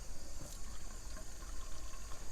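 Tap water runs into a sample bottle at a sampling point, a steady gushing flow with a splashy high hiss, moderately close and unbroken, with no talking.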